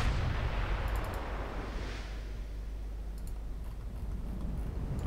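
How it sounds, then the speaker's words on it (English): Battleship gunfire from the naval game Ultimate Admiral Dreadnoughts, set in a 1953 Italian campaign: a steady, dense low-end rumble of heavy guns with faint clicks, continuous and loud without distinct separate blasts. "We're scoring some pretty sizable hits, but we're also taking fire from that battleship."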